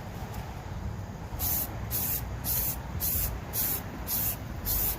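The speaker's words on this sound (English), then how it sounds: "I'm just going to keep spraying" An aerosol can sprays onto a cardboard box in about eight short, evenly spaced hissing bursts, close and fairly quiet, with no talking.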